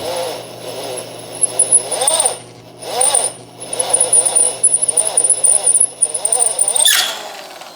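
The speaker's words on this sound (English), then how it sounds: "my drill is not happy" A power drill strains at slow speed under heavy pressure, boring into metal with cutting lubricant on an LS-swapped 3000GT VR4; a whining, squealing grind rises and falls in several bursts, loud and close, with short pauses between.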